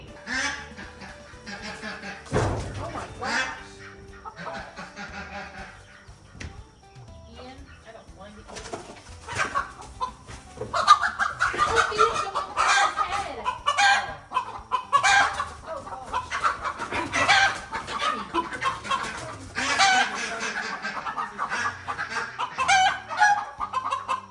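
Chickens and other birds in a coop clucking and calling, with sharp squawks and scattered bursts that grow busier and louder midway, close by and mixed with some movement noise.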